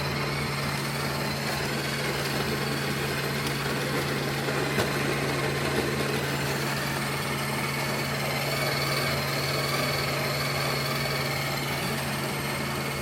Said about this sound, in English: you click start grind. And they say you do not touch this until it's done grinding.